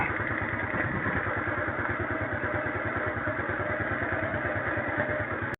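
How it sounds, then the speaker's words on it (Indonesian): Motorcycle engine running at a steady idle, a close, continuous low throbbing putter with even rhythm and no talking, cut off abruptly at the end. "baru kita hidupkan motornya"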